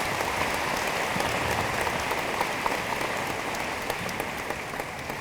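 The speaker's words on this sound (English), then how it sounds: "I think that deserves a round of applause." Sustained audience applause at a university welcome event for freshmen fills the hall as a steady, dense wash of many hands clapping at even loudness, with no talking.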